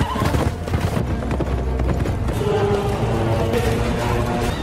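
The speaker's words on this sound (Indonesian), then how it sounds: "Lucius pun segera mengejar Macronus yang kabur menggunakan kuda" A horse gallops during a chase scene in the film Gladiator II, set in ancient Rome, with loud, rapid hoofbeats that pound continuously, and a whinny may be heard among them.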